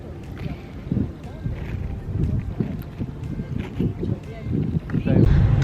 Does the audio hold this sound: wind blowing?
yes